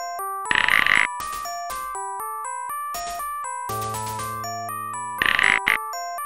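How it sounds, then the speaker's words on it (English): A telephone in the Dark Seed point-and-click adventure game rings in electronic bursts, with two loud ringing phases separated by game tones and chimes and no talk. "Did we miss the opportunity to answer the phone?"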